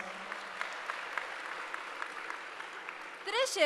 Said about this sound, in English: Let's give him once again a big round of applause.